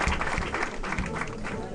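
A crowd of parents claps for students at a secondary school welcome ceremony, a thick, continuous wash of applause at even strength throughout.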